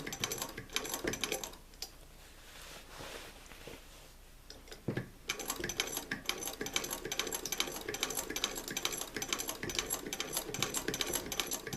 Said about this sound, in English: once you've gotten the first few stitches, you can let go and just let the machine feed the fabric on through